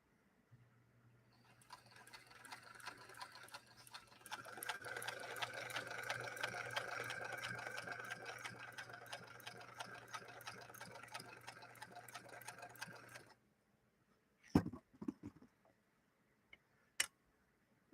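A Singer Featherweight sewing machine stitching, a rapid mechanical whirring chatter that builds and runs steadily for about nine seconds, then stops, followed by a few sharp clicks and knocks.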